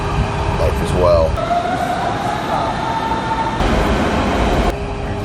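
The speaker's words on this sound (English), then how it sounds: "We're on the local train." A local train leaving Berlin gives a steady rumbling ride inside the carriage, with a faint tonal whine rising and a few brief squeals over the continuous rolling noise.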